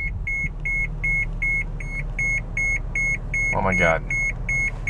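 A car's high electronic beep repeats rapidly and steadily, with an idling engine rumbling underneath and a brief spoken exclamation partway through.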